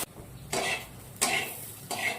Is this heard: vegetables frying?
yes